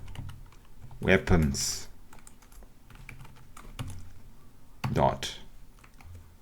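Bursts of typing on a computer keyboard while writing an SQL query, with quick clustered key clicks separated by pauses, under a voice speaking quietly.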